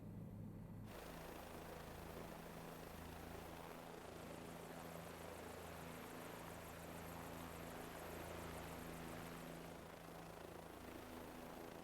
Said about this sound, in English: Okay, so now we're actually flying the helicopter instead of having it beep at us.